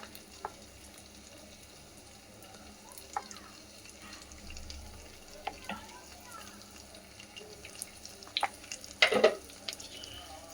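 Chicken keema sautés in a pan for a chicken keema chana dish. A quiet sizzle runs underneath scattered utensil clicks and scrapes, and a sharp burst of stirring comes near the end.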